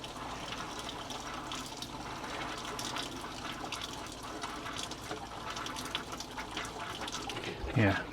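Motorhome taps running water as the fresh water tank empties, a steady gushing flow that sputters and spits near the end, with faint background noise and some talk.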